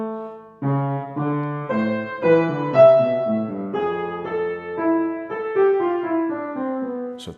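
Third and fourth fugue voices entering in stretto, clean keyboard-like tones in overlapping melodic lines, moderately loud and alone, notes stepping in a steady measured rhythm.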